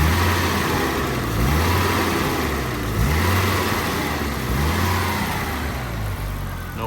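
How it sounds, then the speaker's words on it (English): Audi UrS4 engine revving with its MAF sensor unplugged and running rich, a steady loud mid-pitched drone rising and falling in three repeated throttle blips, close and alone with no talk. "Now throttle response with the MAF unplugged."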